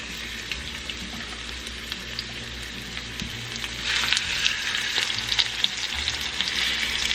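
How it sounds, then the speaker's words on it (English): Pork chops dropped into a hot, smoky pan of olive oil, a steady close sizzle that swells sharply louder about halfway through as more meat goes in, crackling and spitting without talk. "Now that it's nice and hot, we are going to place 2 pork chops at a time."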